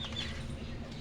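Golden heavy buff hens sit in a cleaned farm cage, giving soft, brief clucks at a distance under a steady low background hum.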